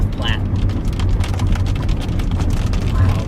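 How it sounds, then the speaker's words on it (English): Big raindrops drum steadily and loudly on a vehicle during a storm north of North Platte, Nebraska, a dense continuous patter close by with a low engine rumble beneath. "So pretty big raindrops right now."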